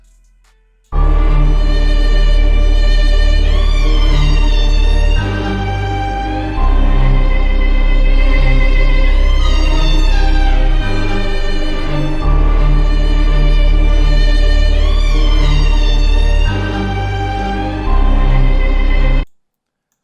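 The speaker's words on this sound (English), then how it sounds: "just have an orchestral sample which sounds like this." Sustained orchestral music with full strings and brass, rich low bass notes and swelling phrases, playing loudly and continuously without any voices.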